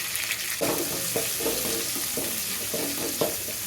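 Garlic and green chillies frying in hot oil, a steady soft sizzle with intermittent stirring scrapes, close and fairly quiet.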